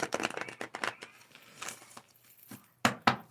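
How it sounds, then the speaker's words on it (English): Quick riffling and soft slapping of tarot cards being shuffled close by, a burst of papery flicks ending in two sharper taps. "Let's shuffle one more time."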